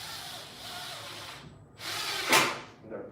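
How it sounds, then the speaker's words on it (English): A power drill drives a set screw into a fitting, with a grinding, whirring burst followed by a sharp louder surge as the screw seats, close and without talk. "just drill it in here."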